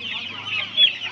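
One-month-old Australian chicken chicks at a poultry market give a short burst of close, continuous high peeping and clucking.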